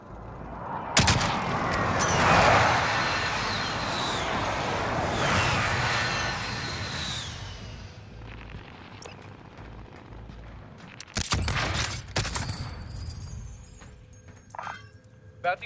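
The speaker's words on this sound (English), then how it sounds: "Friendly precision airstrike." Jets roar overhead and explosions boom during a precision airstrike in Call of Duty: Modern Warfare, a loud sustained rush of engine noise followed by sharp blasts and crackling gunfire, with a brief voice underneath.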